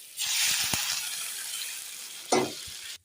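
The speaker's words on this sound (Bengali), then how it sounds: "এখন আমি জল দেব" Water hits sizzling spice masala in a pan, setting off a loud hissing burst that gradually settles, with a few clinks of a utensil and a second splash and sizzle near the end, all close by.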